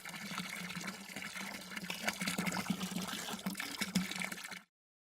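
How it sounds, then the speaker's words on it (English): Filtered water runs out of the outlet tube of a biosand filter into a clean container, making a quiet, continuous trickling and splashing pour that stops abruptly near the end. "You'll see the water start to flow out of the tube."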